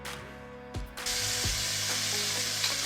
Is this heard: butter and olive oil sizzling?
yes